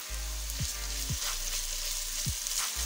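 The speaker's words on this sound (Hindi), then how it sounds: "अभी लहसुन अदरक का पेस्ट शामिल कर रहे हैं।" Garlic ginger paste frying with softened onions in a pan, a continuous close sizzle with a low hum underneath and three sharp knocks of a spoon against the pan.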